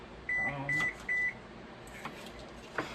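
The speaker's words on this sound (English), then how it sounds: "Put your oven on 350, guys. That was the oven." Three short, evenly spaced electronic beeps from a kitchen oven being set to 350 degrees, clear and close, followed by faint clicks and handling noises.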